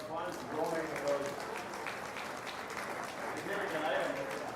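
Crowd applause at a 4-H beef show at a county fair, a steady wash of clapping lasting several seconds with murmuring voices and faint talk running underneath.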